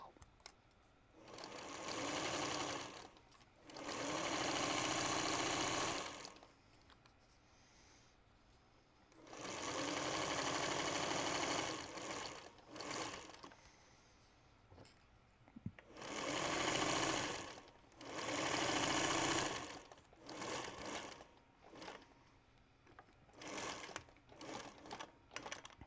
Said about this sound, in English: we're going to stitch through all of these layers now. Let's see if the vintage singer can handle the layers.